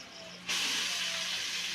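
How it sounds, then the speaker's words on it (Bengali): Greens hit hot oil with chili and onion and burst into a sudden loud, steady sizzling hiss that carries on close and unbroken after a quieter start. "এই যে শাক ভাজছে বিবেক, লঙ্কা পেঁয়াজ দিয়ে"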